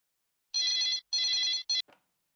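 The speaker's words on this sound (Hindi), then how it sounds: "भीम, मैं फोन लगाती हूँ।" A telephone rings in two long electronic bursts followed by a shorter clipped one, loud and close with no other sound around it, in a comedy sketch.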